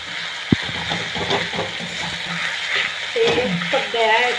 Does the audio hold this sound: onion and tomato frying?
yes